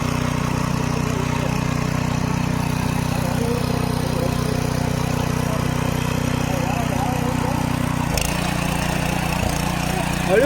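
A tractor engine working in a muddy paddy field, a steady loud drone that runs unbroken throughout, with a brief knock near the end.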